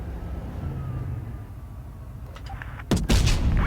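A tank cannon fires in the World of Tanks Blitz video game, a sudden loud blast with a crashing broadband tail near the end, rising out of a steady rumble of engine and battle ambience.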